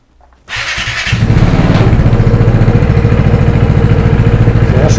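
A Vespa GTS 300 scooter with an Arrow exhaust starts up and settles into a loud, close, steady idle with a fast, even pulsing throb that holds to the end.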